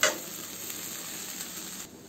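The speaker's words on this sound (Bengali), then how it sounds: "তো এখন আমি রাইসটা দিয়ে দিচ্ছি।" Rice tipped into a frying pan with beef and carrots for fried rice, a sharp burst at the start settling into a steady close sizzle.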